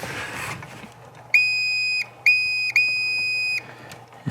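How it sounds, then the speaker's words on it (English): A digital multimeter on continuity mode, used to test wiring during a Jeep airbag light repair, gives three loud, steady electronic beeps in quick succession, with brief gaps between them, over a quiet room hum. "Touch those and it beeps."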